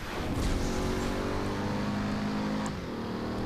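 A car engine in Driver San Francisco revs in a sustained, loud roar with rising and falling engine tones, steady throughout with a brief dip near the end and no voices.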